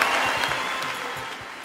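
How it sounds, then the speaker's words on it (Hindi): Applause from the audience at a Hindi poetry recital, a kavi sammelan, sounds as a brief, moderately loud patter of many hands clapping that gradually eases off, with no speech over it. "जोरदार तालियां।"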